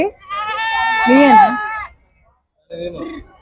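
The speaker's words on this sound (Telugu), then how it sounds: "ఎన్ని మేకపోతులు ఇవి మొత్తం ముప్పై పోతులు" Male goats bleat loudly and close by at a busy sheep and goat livestock market: one long wavering bleat, a short silence, then a second, shorter bleat.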